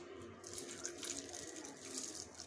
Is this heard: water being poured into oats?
yes